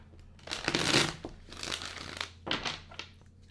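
Tarot cards are shuffled by hand in close, papery bursts of riffling and rustling, three or four brisk waves of crinkly card noise with short pauses between and no talk.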